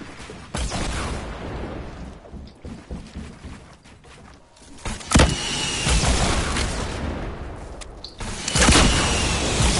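Gunfire in a first-person shooter video game: scattered single shots and short bursts over steady game background noise, with sharper, louder reports near the middle and toward the end.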